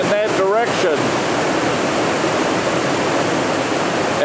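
Foster Falls roars as a steady, loud broadband rush of falling water, close and continuous, with a brief whistle-like tone at the very start.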